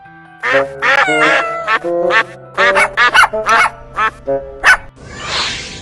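A pet duck quacks loudly and close by in a rapid run of about a dozen harsh, nasal calls, followed by a brief rustling burst at the end.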